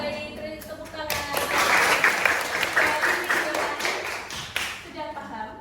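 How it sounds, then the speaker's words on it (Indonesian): Classroom of junior high school students applauding together, a sustained burst of many hands clapping that rises, holds for several seconds and then tapers off. "terus tepuk tangan"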